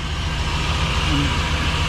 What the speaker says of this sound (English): this thing fired right up and is idling